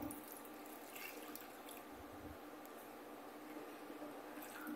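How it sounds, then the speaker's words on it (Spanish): Water mixed with yeast is poured into a bowl for figacitas dough, giving a quiet, steady trickling and splashing that runs continuously throughout. "Ahora pongo el agua con la levadura"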